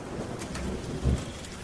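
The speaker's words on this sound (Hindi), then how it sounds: "आसमान गरजता हुआ बरस पड़ा।" Steady heavy rain hisses over a thunderstorm, with a brief low rumble of thunder rising near the end, heard alone without voices.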